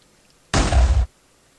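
Bomb blast in the Minecraft Voltz mod, one short loud thud lasting about half a second, abrupt start and cut-off against quiet.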